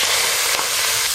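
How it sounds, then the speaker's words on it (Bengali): Prawns sizzling in hot oil, a brief loud, dense frying hiss with no other sound over it. "ওই একই তেলে চিংড়ি মাছগুলো খুব ভালো করে ভেজে নেব।"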